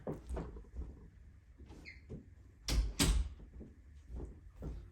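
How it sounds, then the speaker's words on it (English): A room door is pushed shut during a sermon, giving a single loud thump with a short rattle near the three-second mark, among quieter shuffling and other room noise. "I'm going to shut this door."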